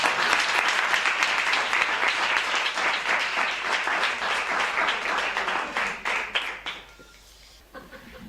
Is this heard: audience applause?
yes